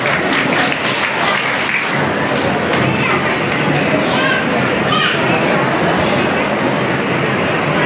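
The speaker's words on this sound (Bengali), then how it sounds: "সবাই একটু জোরে হাততালি দেবেন" Students at a medal ceremony clapping in a loud, dense crowd, continuous applause mixed with children's chatter and shouting, with occasional thumps throughout.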